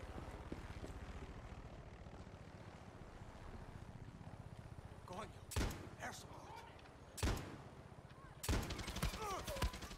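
Gunfire in Far Cry 6 cracks out in three sharp bursts over the steady drone of a propeller aircraft engine, the shots loud against the continuous hum.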